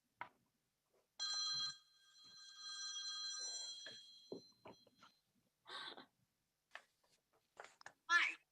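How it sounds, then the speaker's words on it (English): A telephone rings with a sustained electronic tone for a few seconds inside a church during a Sunday service, followed by scattered short sounds and brief voices. "The phone is ringing again."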